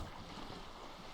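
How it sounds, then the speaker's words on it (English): Wind flaps a boat's sail in Disco Elysium, a steady, broad rush of wind and water noise with no clear individual flaps, fairly faint and unbroken. "The wind flaps the sail above her."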